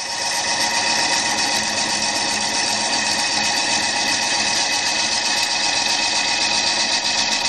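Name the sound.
wood lathe spinning while turning a glued bowl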